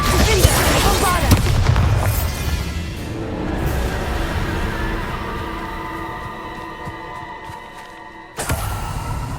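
Confringo and Bombarda spell explosions in the Hogwarts Legacy video game, booming blasts up front followed by ringing tonal effects, a sharp burst near the end, with voices shouting spells.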